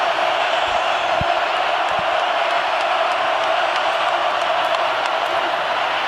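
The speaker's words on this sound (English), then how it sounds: "evolution of Pavia has been exceptional, but he's going to have to deal with this crowd here on Rocky Top all game" A packed college football stadium crowd at Rocky Top for Vanderbilt at Tennessee roars in a steady, loud wall of cheering, with a commentator talking over it.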